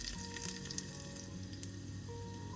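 Garlic frying in a pan beside onions while cooking Singaporean Ramadan porridge: a soft, steady sizzle and crackle runs evenly throughout, with no talk.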